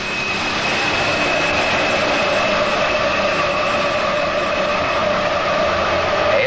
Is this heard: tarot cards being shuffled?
no